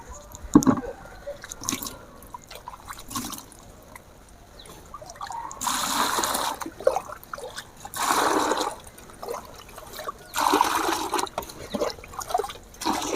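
Water is poured and trickles over chopped kitchen waste collected for compost, in a few separate splashing bursts with quiet drips and handling noise in between.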